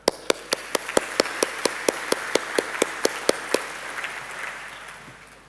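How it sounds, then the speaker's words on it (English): Steady round of clapping from a conference audience, crisp individual claps standing out rhythmically over a dense wash of applause that gradually fades toward the end. "A round of applause, please, for Professor Greg Clark."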